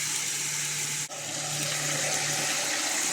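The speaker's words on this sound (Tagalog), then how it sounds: "Lagyan natin siya ng tubig." Water runs steadily from a tap into a pot of chicken for curry in a home kitchen, a constant close rushing and splashing with a brief break partway through.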